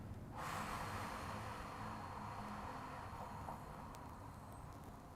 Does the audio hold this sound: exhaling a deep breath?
yes